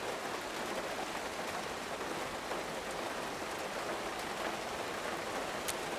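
Steady rain in the video game Road 96, a dense even hiss of falling drops on surfaces, continuous and fairly loud with no voices.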